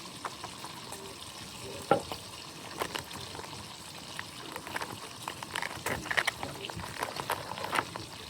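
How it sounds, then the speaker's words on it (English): Gravy bubbles and sizzles in a hot pan while being stirred, with soft scraping clicks and crackles and occasional faint voices underneath. "Stir it up. We're gonna make some gravy."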